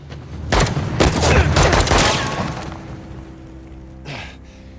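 Video game gunfire from Uncharted: The Lost Legacy, a loud close burst of rapid shots over about two seconds, then fading reverberant booms and a later single report.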